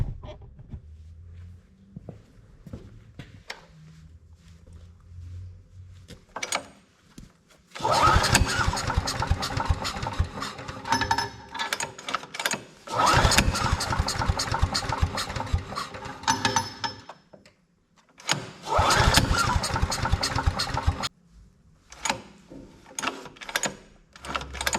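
Earthquake wood chipper with a Viper engine, just after a carburetor repair, cranked three times in bursts of a few seconds each, loud and close, with quieter pauses and clicks between attempts.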